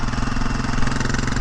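A 2023 Honda CRF250F dirt bike engine idles close by, a steady low, even thrumming putter with no voices.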